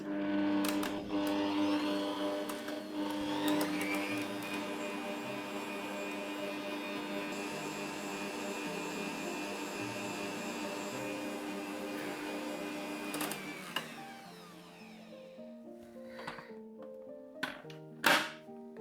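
An electric mixer beats cream cheese into cake batter with a steady motor whir that runs for several seconds, then stops, followed by faint clinks and knocks of the bowl.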